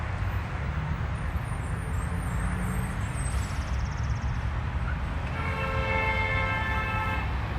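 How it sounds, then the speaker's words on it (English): Car horns honk amid steady traffic roar on Mission Boulevard beside a cemetery, with a long sustained horn tone near the end over continuous loud road noise. "Traffic out there on Mission Boulevard is going pretty good. People honking, getting all testy with one another."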